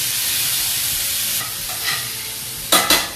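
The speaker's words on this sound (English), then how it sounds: "It's also created its own fat, so it's ready to take this squash. And we're going to go right into the skillet." Spiralized spaghetti squash sizzles and hisses in rendered bacon fat in a skillet, a steady frying wash with a few louder spits and crackles toward the end.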